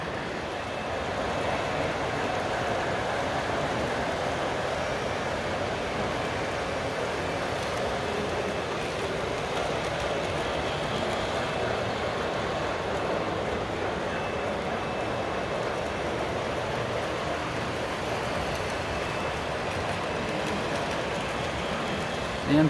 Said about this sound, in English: holiday train coming around